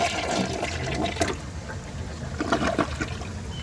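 A Mansfield Summit toilet flushing mud and toilet paper, a steady rushing swirl of water drawing down the bowl, moderately loud and close, with no voices.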